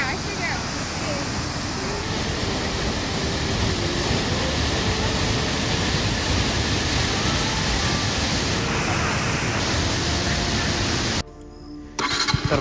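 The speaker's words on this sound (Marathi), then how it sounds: "गाईज बघू शकता एकदम खतरनाक धबधबा आहे" Randha waterfall roars as a loud, steady wash of broad noise heard close for most of the clip, cutting off abruptly near the end.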